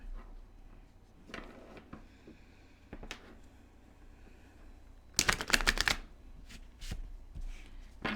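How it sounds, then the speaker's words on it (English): Tarot cards being shuffled by hand during a three-card reading: a crisp, dense riffling burst close to the mic, with scattered lighter card taps and handling sounds before and after. "I didn't shuffle that one too good, so one more shuffle."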